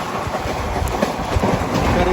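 The Krishna Express, a passenger train on the Karimnagar–Tirupati route, rumbles steadily along the rails with a continuous close roar and faint rhythmic clatter.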